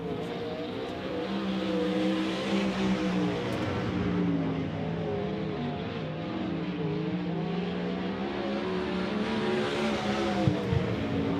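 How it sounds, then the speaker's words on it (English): Race cars lapping Silver Dollar Speedway dirt oval during a Gold Cup Race of Champions event, engines droning and revving continuously at a distance, rising and falling as cars circle the track. "Your first car out, it'll be the 2S of Jay Steinberg from nearby Durham"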